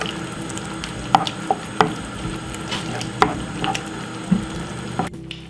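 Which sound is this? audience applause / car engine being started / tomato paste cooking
tomato paste cooking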